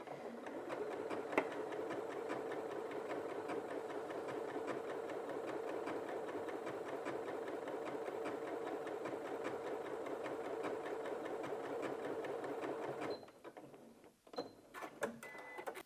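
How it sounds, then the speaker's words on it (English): A Janome 8200QCP sewing machine quilts steadily with its motor-driven built-in walking foot, a smooth, even whirring hum with no clacking that runs continuously for about thirteen seconds, then stops, leaving a few light clicks. "It's not clacking with the motion of the needle going up and down, and that again is because it's driven from the motor of the machine."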